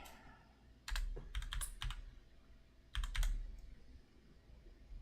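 Typing on a computer keyboard for a web form, with two close bursts of crisp, rapid key clicks separated by a short lull, over a faint background hum.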